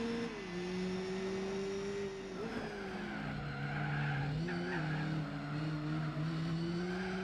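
Tires skid and squeal through a hard slide in Gran Turismo 4 on PS2, with a sustained engine drone and shifting squeal tones over about seven seconds, loud and continuous, no talk.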